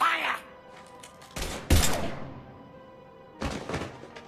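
Gunfire from the video game Mass Effect 3, a couple of loud sharp bursts separated by quieter gaps, with game dialogue and ambience around them.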